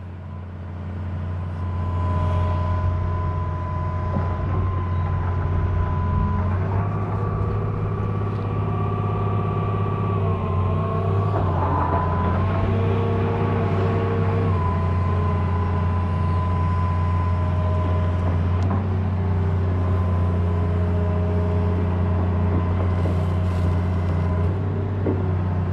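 A heavy excavator engine throttles up and holds a deep, steady diesel drone while digging a hole, rising slightly in pitch partway through, with faint shifts in load and no voices.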